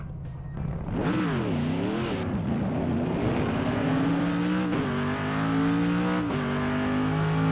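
Race car engine in Automobilista 2 heard from an outside camera, a loud sustained drone that rises and falls through gear changes and revs, climbing steadily, with a hint of tyre squeal.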